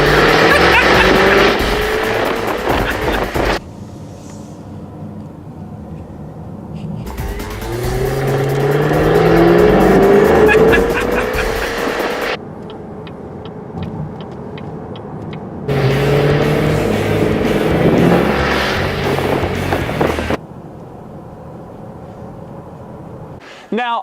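Jaguar F-Type V8 S engine rumbling and revving hard through repeated acceleration bursts, loud and close, with quieter lulls between pulls and some talking.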